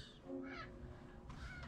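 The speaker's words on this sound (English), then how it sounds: "Birds." Birds caw in the Minecraft Crazy Craft modpack, a couple of short crow-like calls that are faint and distant over a low background hum.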